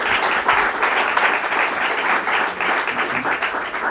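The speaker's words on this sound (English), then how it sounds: "A round of applause for County Executive Zahalai for this" Sustained applause from an audience at a county executive's public order-signing event, a dense, steady wash of many hands clapping at fairly loud, even volume with no break.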